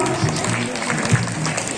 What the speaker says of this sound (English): All the students, please congratulate and clap them for